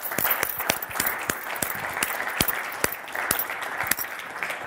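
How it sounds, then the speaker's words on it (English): A room full of people applauding, a dense wash of clapping with sharper individual claps poking through, sustained throughout. "Can we show a round of applause for our panellists,"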